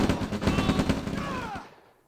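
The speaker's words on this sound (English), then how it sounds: "my light tank is absorbing all the bullets from those riflemen" Riflemen's gunfire pelting a light tank in OpenRA Red Alert, a loud rapid rattle of shots that thins out and fades to quiet near the end.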